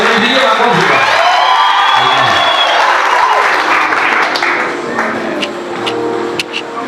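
A church congregation at Life Source Mission Centre claps and cheers in a loud, dense wash of applause that eases slightly toward the end, with voices mixed in under it.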